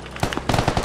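Rapid bursts of gunfire in the tactical shooter Squad, several sharp close shots cracking in quick succession across the short clip, loud and busy with no talk over them.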